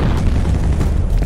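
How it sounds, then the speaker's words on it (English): A grenade blast in the first-person shooter FEAR, a loud, dense low boom that stays heavy and rumbling across the whole short moment with no talk over it. "Fire in the hole! Grenade out!"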